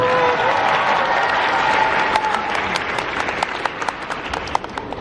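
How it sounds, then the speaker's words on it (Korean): Audience applause at an onstage talk session, a dense burst of clapping close by that gradually thins into scattered individual claps over five seconds. "다시 박수 한번 부탁드립니다."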